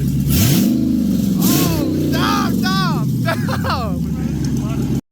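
A Dodge Challenger engine with no catalytic converters revs loudly and close, its rising and falling exhaust note continuous throughout, while people talk over it.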